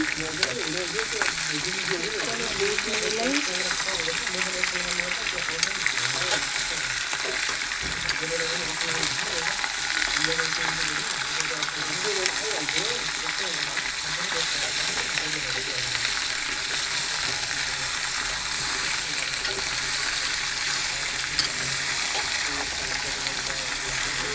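Meat sizzles steadily in a hot pan while being stirred, a continuous loud crackle with scraping of the spatula throughout.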